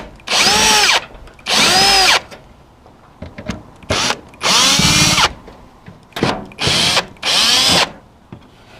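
A power drill backs screws out of a small shed panel during repairs in repeated short whirring bursts of about a second each. The bursts are loud and close, separated by brief pauses with faint clicks and handling noise.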